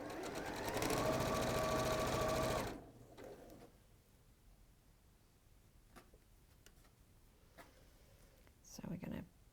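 A Juki sewing machine chain-pieces fabric in a loud, steady whirring run for about three seconds, then stops, leaving quiet room noise, faint clicks and a brief stir near the end.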